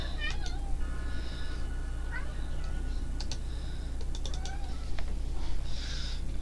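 Several cats meowing in a Fallout 2 game, repeated short cries scattered over a steady low hum with keyboard typing clicks throughout.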